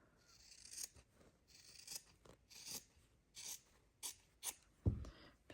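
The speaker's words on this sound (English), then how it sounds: "Now I'm going to very carefully trim back that calico" Scissors trim calico or muslin stabilising backing fabric in a hand-stitching project, making a series of close, crisp snipping and slicing cuts at an irregular rhythm, with one louder, heavier cut near the end.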